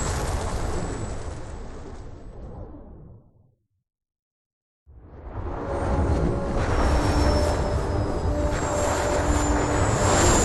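A spaceship escaping at warp speed in the game Star Wars: Knights of the Old Republic II: a loud, dense engine roar fades into a brief dead silence, then surges back at full strength with thin whining tones over the rumble.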